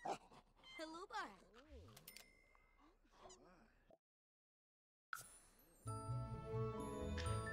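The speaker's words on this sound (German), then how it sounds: "Sie ist ein Jagdhund." A hunting dog in the video game The Sims 4 pants and whimpers in quick rhythmic breaths with jingling tags. A short silent gap is followed by game music.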